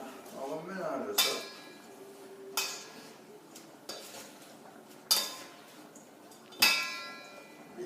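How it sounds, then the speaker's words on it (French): Metal spoons clink and scrape against a bowl in a home kitchen while a mixture is stirred, with four or five sharp ringing knocks spaced a second or two apart over a low background. "Et là, on va sortir les belles cuillères. On va mélanger ça."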